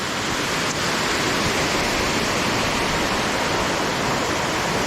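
Anna Ruby Falls, a waterfall cascade running during a drought, roars as a loud, steady, broadband rush of falling water heard close up, with no voices.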